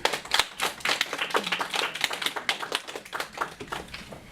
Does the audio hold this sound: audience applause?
yes